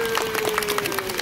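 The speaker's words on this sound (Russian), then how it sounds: "Аплодисменты!" A crowd claps at a dolphin swimming show at the Selanya seapark, with dense steady applause throughout and a tone of music sustained behind it.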